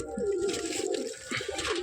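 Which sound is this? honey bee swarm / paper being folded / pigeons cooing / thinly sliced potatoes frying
pigeons cooing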